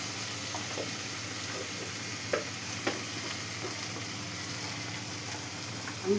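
Spices and fried onion stirred in a pan for a fish curry, a soft steady sizzle with a few sharp scraping knocks of the spoon, fairly quiet and alone.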